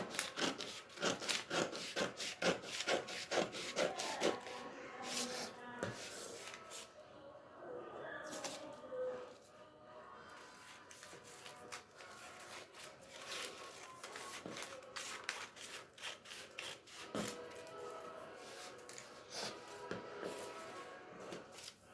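Scissors cut through fabric for a panel skirt, giving quiet, repeated snipping and rubbing scrapes in an irregular rhythm close by, with occasional soft talk.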